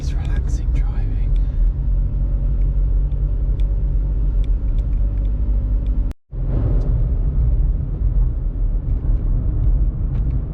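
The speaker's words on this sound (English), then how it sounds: "Nice, relaxing driving." A car cruising along a quiet rural track in Northern Spain, giving a loud, steady low rumble of engine and tyres heard from inside the cabin, broken by a brief dropout of the sound near the middle.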